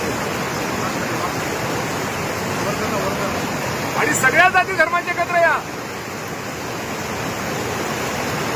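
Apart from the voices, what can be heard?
flood water flowing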